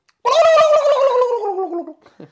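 A person imitates a turkey gobble with the voice, one loud warbling, gargled call of about two seconds, close and alone, trailing into a short breathy sound at the end.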